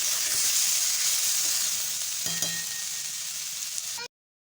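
Khanman sizzling and frying with spices in a pan, a steady loud sizzle with a faint clink of stirring near the end before it cuts off abruptly.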